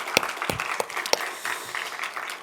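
A church congregation claps for a few seconds, with sharp, separate, irregular claps that are fairly close, thinning into softer scattered clapping.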